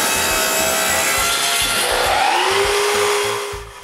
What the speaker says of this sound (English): So I cut a bunch of 1-inch strips